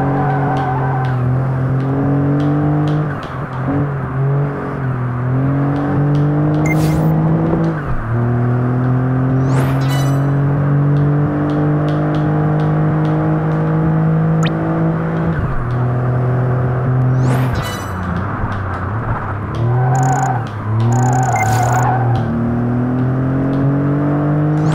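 A video game race car engine howls through a lap, climbing in pitch through each gear and dropping sharply at every shift and braking point, loud and continuous, with a few brief clicks and beeps and no talking.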